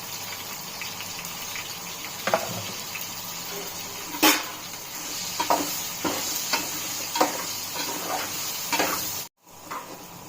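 Sliced bitter gourd cooking in a pan with salt and turmeric, a soft steady sizzle with scattered stirring scrapes and clinks of a utensil against the pan, fairly quiet and close.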